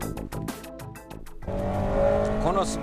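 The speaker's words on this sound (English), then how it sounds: "It's amazing how well this car runs on a slippery track." A 1996 Spec R car drives on a slippery track, its engine revving and tires squealing near the end. Someone talks over the first part.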